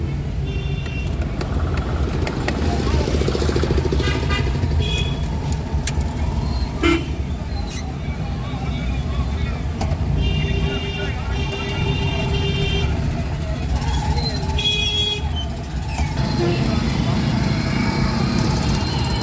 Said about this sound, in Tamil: டவுன் பஸ் எல்லாம் இங்கே வரும்.